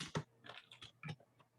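Quiet keyboard typing, a handful of soft, irregular key clicks close by with no voices.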